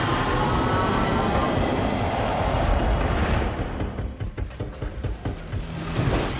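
A loud, continuous rumble of a tram ride in the game Deadpool VR, with dense rolling rail noise that thins into rhythmic clattering and softer passes toward the end.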